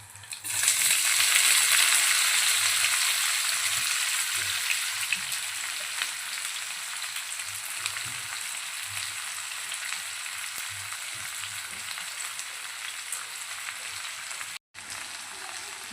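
Cumin and caraway seeds sizzle loudly in hot oil in a pan, a steady close hiss that is strongest at the start and continues throughout, briefly cut once near the end.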